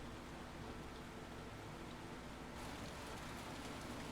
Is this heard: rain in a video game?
yes